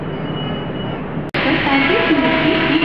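A Central Railway AC fast local train at a station platform, its steady rumbling drone cut by a brief sharp break, with public announcements and voices over the train noise.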